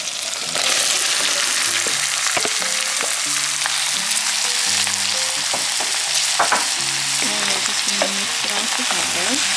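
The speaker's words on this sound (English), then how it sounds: "While the onion is sauteing, I'm gonna add in the squash." Onion and squash sautéing together in a pan, a strong steady sizzle with crackles and occasional stirring scrapes, under light background music and no talking.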